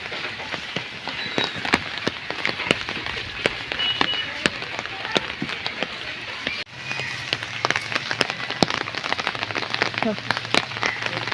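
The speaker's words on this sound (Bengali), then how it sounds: "বৃষ্টি হচ্ছে" Rain falling steadily on a hard surface, a dense close patter with scattered sharper drops, and a person's voice faintly in the mix.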